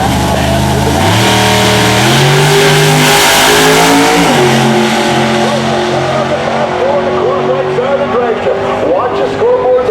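A naturally aspirated pro stock drag racing car at an IHRA event roars down the strip, engine pitch climbing through gear changes as it recedes, with an announcer talking over it.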